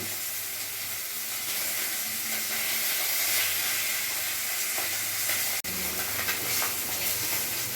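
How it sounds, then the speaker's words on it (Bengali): Pabda fish fry in hot oil with a steady, close, even sizzle and hiss that continues throughout, broken by one brief sharp click partway through. "মাছগুলো আমার ভাজা হয়ে গেছে।"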